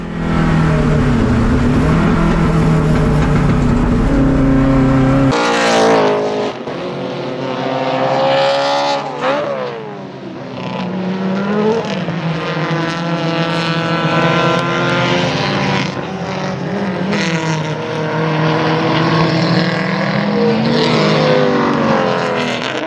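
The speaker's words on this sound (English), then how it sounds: "the nimble escorts made their way past the V6 Commodore" Improved Production race cars, nimble Ford Escorts and a V6 Commodore, racing at Baskerville in Tasmania, engines loud and close with rising and falling revs as they pass, no talk over them.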